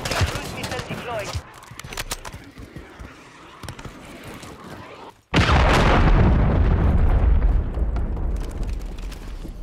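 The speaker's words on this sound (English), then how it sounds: "Friendly cruise missile deployed." A cruise missile detonates in Call of Duty, a sudden deep boom halfway through that cuts in after quieter game noise and rolls on as a loud, rumbling blast with crackling debris.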